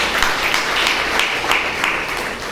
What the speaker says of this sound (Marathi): पहिल्यांदा या सगळ्या शिक्षकांसाठी मला टाळ्या वाजाव्या वाटतं